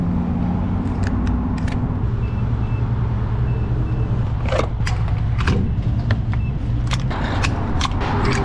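Mason dump truck backing into a yard to park, its reversing alarm beeping in a steady rhythm over a rumbling idling engine, with scattered clicks and mechanical clunks nearby.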